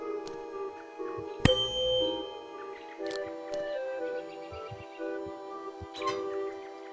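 Bell chimes in a video game, a sharp struck ding followed by lighter tinkling tones over a quiet melodic game soundtrack.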